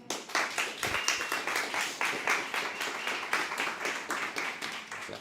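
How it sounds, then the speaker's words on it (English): Studio audience applauding a podcast guest as he is welcomed on stage, a steady dense patter of many hands clapping throughout, fairly close and even in level. "can we give a massive round of applause for my friend, Michia Rohrssen"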